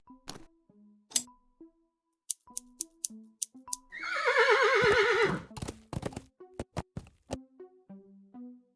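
A horse in the adventure game Willy Morgan and the Curse of Bonetown gives one loud, long, quavering whinny amid scattered clip-clop hoof taps and clicks.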